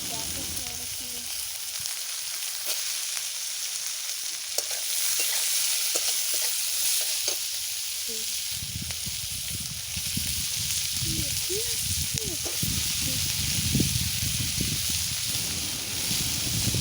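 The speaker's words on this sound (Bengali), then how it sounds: "এবার পেঁয়াজটা ভেজে নেব।" Onions fry in oil for a village-style chicken curry, a continuous loud crackling sizzle with shifting intensity, and muffled voices murmur in the background during the second half.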